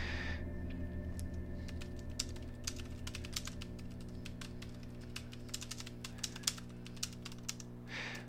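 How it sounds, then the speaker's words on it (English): Quick, light keystrokes on a computer keyboard patter unevenly and close by over a steady low hum, with no talk. "If you can hear me typing, I'm just typing."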